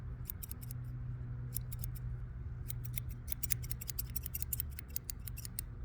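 Scissors snip close to the ear outdoors, with quick clusters of crisp metallic cuts separated by short pauses over a low, steady background rumble.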